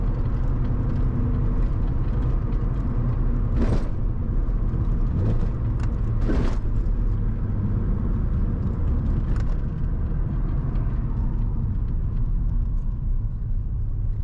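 A Mazda RX-7 FC drives with a loud, continuous engine rumble and road noise, with a few brief hissing swooshes along the way.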